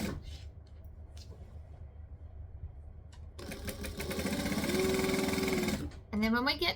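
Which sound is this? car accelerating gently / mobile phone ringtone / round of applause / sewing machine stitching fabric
sewing machine stitching fabric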